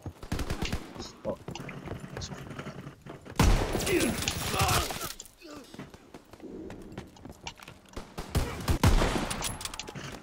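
Sharp sniper rifle shots ring out in a WW2 shooter game, two loud bursts standing out over a busy mix of gunfire, footsteps and game noise, with a player talking throughout.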